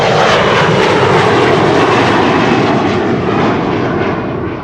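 A passenger jet departs from Polderbaan runway 36L at Amsterdam Schiphol in rain showers, its engines a loud, steady broadband roar that fills the whole span and eases only slightly toward the end.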